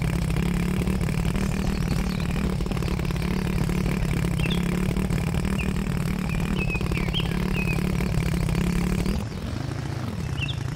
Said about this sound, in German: Wer lässt mir den Motor laufen?